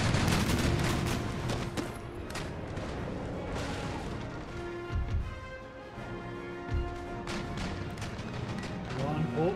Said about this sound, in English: Broadside. Fire.